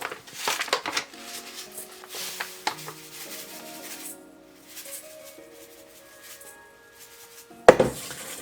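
Graham cracker crumbs being stirred in a bowl, close gritty scraping and rubbing strokes with light clinks of a utensil, ending in a sharper knock.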